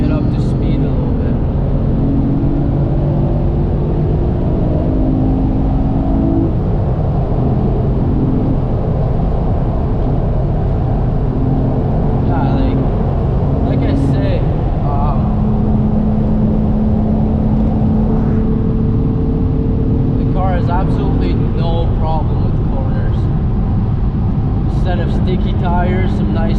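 Engine of an 8th gen Honda Accord with a 6-speed manual, heard from inside as the car accelerates up to speed, a loud steady drone with rising tones across shifts and road noise throughout.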